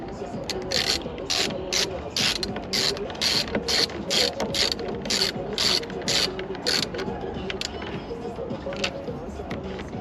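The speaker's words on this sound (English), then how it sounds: "So now with the 10mm" A 10mm ratchet tightens a side mirror bolt on a 2004-2008 Nissan Maxima, giving rapid bursts of sharp metallic clicking in an uneven rhythm, close and fairly loud against faint background noise.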